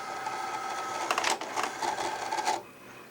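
A Cricut Explore cutting machine whirs and clicks as it pulls in a cutting mat loaded with yellow Stampin' Up! cardstock, a steady mechanical hum rising into louder bursts of motor rattle before settling back.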